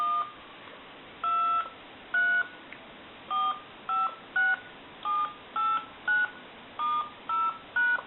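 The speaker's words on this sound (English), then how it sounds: "then we'll go ahead and dial some numbers here" A candlestick telephone with a bellbox, converted and repaired, sends out a series of about a dozen distinct touch-tone beeps as numbers are dialed, evenly paced over a faint line hiss, clear and close.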